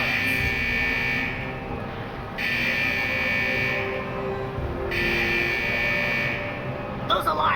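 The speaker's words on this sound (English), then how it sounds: "Those alarms indicate that we're encountering some minor technical difficulties with the fusion press unit" Alarms sound from a fusion press unit in the World of Warcraft video game, a loud buzzing tone switching on and off in long, regular pulses over a constant mechanical hum.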